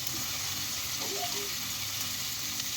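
Cumin seeds and chopped onion frying in a pan over low heat for paneer bhurji, giving a steady, soft hiss that runs throughout with little change in level.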